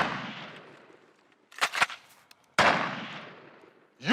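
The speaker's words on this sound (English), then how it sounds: "The rubber bullets sting, but won't penetrate the bear's hide." Rubber bullets fired at a bear crack out in two loud, sharp shots a second apart, each with a long fading echo outdoors, plus another report starting at the end.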